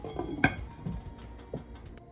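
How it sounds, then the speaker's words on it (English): A metal lid set onto a pot of cabbage soup gives one clear clink, followed by a few faint knocks and a softer scrape, close and quiet in a kitchen. "We're going to put the lid on"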